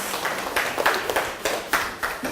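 Lecture audience clapping in a short, uneven burst of hand claps, moderately loud and fairly close, with no talk over it.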